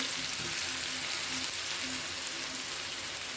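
Cumin seeds and onions fry in hot oil in a pan, a close, steady sizzle and crackle throughout with no talk.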